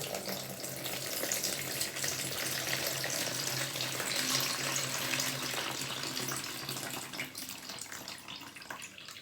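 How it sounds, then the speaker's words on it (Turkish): Salty brine drains off green olives through a container or strainer into a sink, a steady pouring gush of water running continuously and fairly close, easing slightly near the end, with no voices. "iyice süzüyorum"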